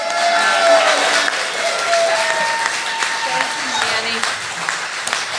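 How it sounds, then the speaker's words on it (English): An audience at an election integrity talk claps loudly and steadily to welcome a speaker, a dense, sustained roar of applause with voices mixed in throughout. "stand up or sit down, but clap really loudly"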